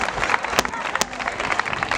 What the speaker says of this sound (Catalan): Clar que sí, un fort aplaudiment per a elles.